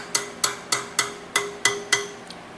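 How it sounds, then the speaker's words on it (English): A wrench taps a loose wheel spoke on a Rawrr Mantis X Pro electric motorbike, giving eight evenly spaced short metallic knocks that ring briefly, heard alone and close. "The spokes, if they're at the correct torque, should ting. You get the ones that sound kind of dead"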